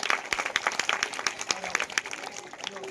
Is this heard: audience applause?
yes